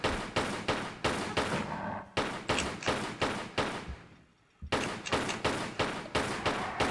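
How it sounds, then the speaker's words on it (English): Lara fires her pistols at raptors in the PlayStation 1 game Tomb Raider 3 on a South Pacific level, rapid loud gunshots repeating in quick bursts with a brief pause midway. "Come on, Lara, shoot him."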